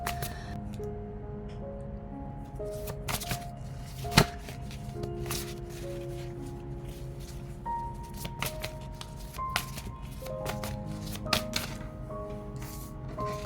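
Tarot cards being shuffled and dealt during a reading, with soft rustling and a few sharp snaps over steady background music.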